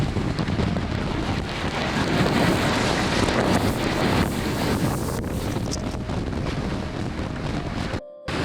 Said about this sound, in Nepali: अब त पानीले पिट्न लाग्यो